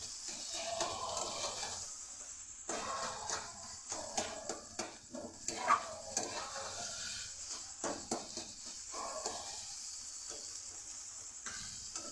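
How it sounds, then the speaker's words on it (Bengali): A spatula works pumpkin and poppy seeds together in a pan, with soft, quiet sizzling and intermittent scraping clicks at close range; no one speaks. "খুন্তি দিয়ে মেশাবেন যাতে পোস্তটা পুরো কুমড়োর সাথে মাখা মাখা হয়ে যায়"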